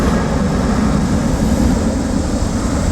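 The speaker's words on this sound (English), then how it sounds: "that was a gigantic airplane" Gigantic airplane flying overhead, a loud, broad, steady roar filling the whole stretch with no speech over it.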